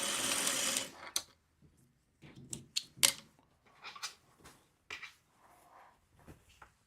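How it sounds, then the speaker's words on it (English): A sewing machine stitches quilt pieces onto a scrap of fabric in a fast, loud burst of about a second, followed by scattered quiet clicks and handling taps. "let's sew off on the piece of scrap"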